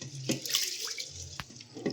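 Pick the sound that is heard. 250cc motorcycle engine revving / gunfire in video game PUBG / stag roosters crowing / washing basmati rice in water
washing basmati rice in water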